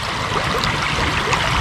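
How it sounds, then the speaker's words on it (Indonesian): An upstream tributary of the Luk Ulo river in a rocky riverbed flows and splashes continuously, a close, steady rushing of water heard on its own. "di setiap sungai, aliran sungai hulu-hulu Lukulo itu, salah satunya adalah ini"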